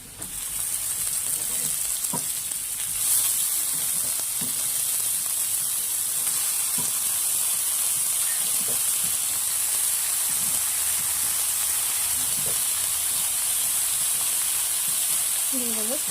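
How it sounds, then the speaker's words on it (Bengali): Chopped red amaranth greens frying with garlic in a hot pan give a loud, steady sizzling hiss that fills the whole stretch, with a few soft stirring clicks scattered through it and no talking. "রসুনটা হালকা ভাজা হয়ে গেছে, এবার দিয়ে দেবো কেটে রাখা শাকগুলো।"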